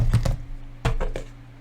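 Oracle cards being shuffled by hand, two quick bursts of crisp riffling snaps, each a few rapid clicks close up against a low background hum.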